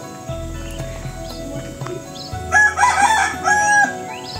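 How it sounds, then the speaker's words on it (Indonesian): Roosters crow one after another nearby in a village at the edge of a forest in Central Java, drawn-out calls answering each other over a low steady hum and faint background clatter. "Suara khas ayam jantan yang berkokok bersaut-sautan."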